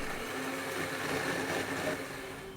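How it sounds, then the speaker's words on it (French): A kitchen blender grinds softened soaked soybeans for soy milk in Abidjan, giving a steady, dense whirring hum that holds at a constant level for the whole stretch with no talk over it. "Les graines ramollies sont passées au mixeur"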